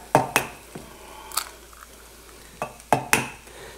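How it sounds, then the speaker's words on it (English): Eggs frying in a frypan over a bioethanol burner, with a soft sizzling bed under several sharp metallic clinks and scrapes of a utensil against the pan, spaced irregularly and fairly close. "So you can hear how that's sizzling away there."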